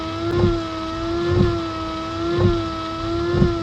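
A Citroen BX windscreen washer pump runs with a loud, steady electric whine, swelling in soft pulses about once a second.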